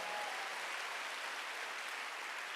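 A church congregation applauds during a Wednesday worship service, a dense, even wash of clapping heard alone at low level, slightly distant.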